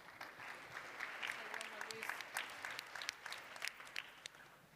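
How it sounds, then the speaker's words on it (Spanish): Scattered, fairly faint clapping from a plenary session audience at a national aggregates congress, individual claps standing out as the applause builds and then thins toward the end. "Un fuerte aplauso para él también"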